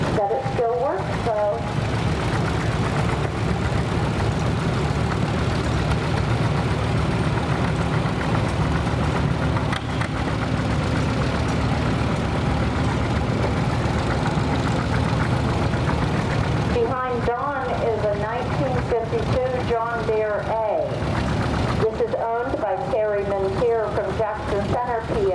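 Antique tractor engine idling steadily throughout a tractor show parade, a continuous low rumble. Someone speaks over it during the second half.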